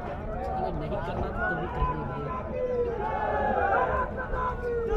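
A large crowd packs a railway station at night, waiting for the Amrit Bharat Express at Sitamarhi Junction, a dense continuous hubbub of many voices with shouts rising over the babble, near and loud.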